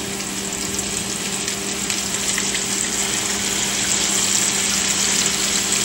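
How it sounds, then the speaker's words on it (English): Country-style ribs pan frying in hot oil, giving a loud, steady, close sizzle with constant crackling hiss and a faint hum underneath, no voices. "Now this is not a deep fry, it's a pan fry."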